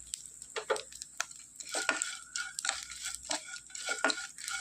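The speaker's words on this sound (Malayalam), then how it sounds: "ഒരു അര മിനിറ്റ് കൂടെ നമ്മൾ ഇതിനകത്തിട്ട് തന്നെ ഒന്ന് ഇളക്കി കൊടുക്കുകയാണെങ്കിൽ അത് ഒന്നും കൂടെ ഒന്ന് ഫ്രൈ ആയി കിട്ടും" Dried prawns being stirred in a hot pan for mango pickle, with irregular scraping and clinking strokes of the spoon over a soft, steady sizzle, close and moderately loud, no talking.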